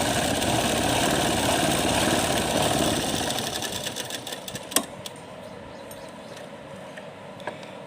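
Electric sewing machine stitching a small doll dress for a Laddu Gopal idol, running in a steady whirring burst for about four seconds, then stopping, leaving quieter handling noises and a sharp click.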